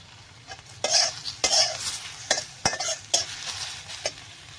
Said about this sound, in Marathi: कांदा टमॅटो चांगला मस्त परतून घेऊया